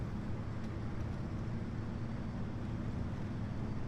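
A car engine drones steadily on a lonely road in the video game Pacific Drive, a constant low rumble with wind and road noise and no breaks.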